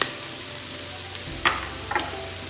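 Minced garlic goes into cooked-down onions sizzling in an Instant Pot while butter chicken is being made: a steady, quiet frying hiss with a couple of soft clicks and taps partway through.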